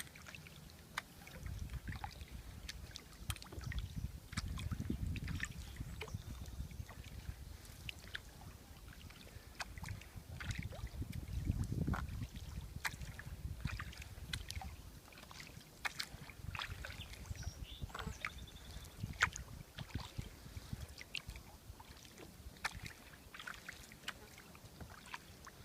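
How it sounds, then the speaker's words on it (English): A kayak glides along Oregon's Tualatin River under a double-bladed paddle, with soft rhythmic dips and splashes of water and gentle low rumbles, quiet and close with no talking. "A double-bladed paddle. I'm in a kayak"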